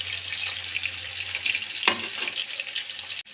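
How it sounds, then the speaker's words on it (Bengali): Prawns frying in oil in a wok make a steady, bright, close sizzle with one brief spatter or scrape partway through before the sound cuts off abruptly, with no voices. "এবার কড়াই তেল দিয়ে চিংড়িগুলো ছেড়ে দেব"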